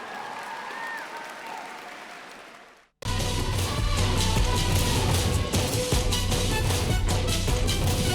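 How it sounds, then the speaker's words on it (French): After a quiet opening stretch, loud sustained applause and crowd noise erupt from an audience at a cosplay show for a Cardcaptor Sakura group, continuing strongly to the end. "On les applaudit très très fort."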